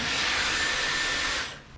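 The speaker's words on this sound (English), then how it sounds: "I've taken the hairdryer, I've warmed up the surface of the spoiler" A hair dryer blows steadily at close range, warming the painted surface of a Honda Accord rear spoiler, a loud even whoosh with a faint whine, then cuts off abruptly near the end.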